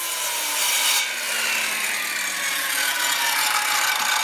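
A saw cuts across timber-frame floor sill joinery, giving a steady, close rasping drone that continues throughout without any talking.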